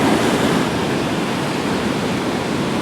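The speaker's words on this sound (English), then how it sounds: "I've got a sandbar over here to my left where you can see those waves are breaking" Waves breaking on a sandbar off a beach give a steady, loud wash of surf with a broad hiss and a little wind, continuous and unbroken, with no voices.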